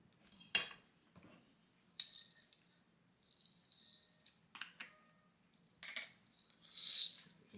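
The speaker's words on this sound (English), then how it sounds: "Make sure every piece of cabbage gets coated once we toss it." Shredded cabbage is tossed with batter in a mixing bowl for okonomiyaki, giving scattered clinks and scrapes of a utensil against the bowl, with quiet pauses between the sharper hits.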